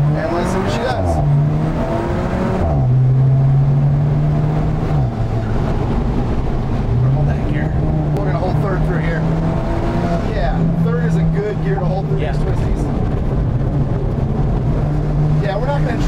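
A 2016 Alfa Romeo 4C Spyder engine drones loudly while driving, its pitch rising and falling as it accelerates, with someone talking over it the whole time.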